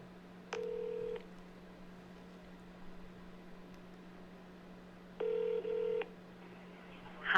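Touch-tone telephone dialing on a call being placed to an AI voice assistant: two bursts of DTMF keypad tones, the first near the start and a longer pair later, over a steady low electrical hum with no talk.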